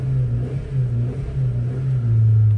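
A car engine running on gas fuel is revved up to about 3000 rpm, giving a loud, steady close-up mechanical drone that swells and eases slightly, with no talking.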